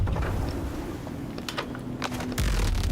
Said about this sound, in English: Panel goes dark and you hear a soft clicking which seems to lock the lever